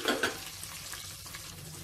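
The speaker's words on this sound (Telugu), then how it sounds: "ఈ ఉల్లిపాయల్ని ఒక 3 నిమిషాల పాటు మధ్యలో కలుపుకుంటూ మంచి కలర్ వచ్చేంత వరకు ఫ్రై చేసేసుకోవాలి" Thinly sliced large onions fry in a pan with slit green chillies for a pressure-cooker chicken biryani, giving a soft, steady sizzle with a couple of brief stirring scrapes at the start.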